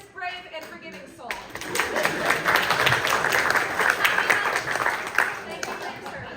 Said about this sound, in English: How about a round of applause for this brave and forgiving soul?